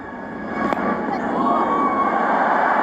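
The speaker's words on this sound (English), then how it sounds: "the crowd is loving it" A stadium crowd cheers a boundary at a women's one-day cricket match between India and South Africa in Bangalore, a steady loud roar of many voices throughout.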